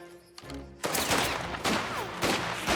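Gunfire in the crime game Mafia: The Old Country, several loud bursts of shots following a quieter opening, dense and close with short gaps between volleys.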